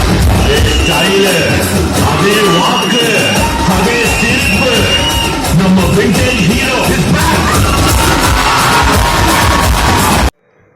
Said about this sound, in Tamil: ரசிகர்கள் எந்த லெவலுக்கு ஆரவாரம் பண்ணுறாங்கன்னு நீங்களே பாருங்கள்